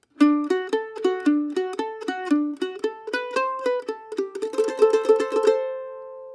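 Mandolin plays the B section of a tune, a repeated phrase three times followed by a lick, a brisk run of close, bright picked notes ending in a ringing tremolo flourish that fades out, with no voices.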